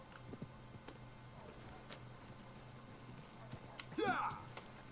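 Horse hooves clip-clopping in Red Dead Redemption 2, soft and intermittent under a low ambient hum, with a brief louder flourish near the end.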